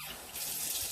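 Warm water runs from a tap into a sink, with a quieter trickle at first and then a fuller, louder steady stream for under a second.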